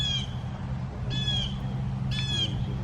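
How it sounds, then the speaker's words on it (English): Birds in a tree call out, with a harsh squawk repeating three times about a second apart over a steady low rumble of outdoor background noise. "There's a little bird pestering the big bird."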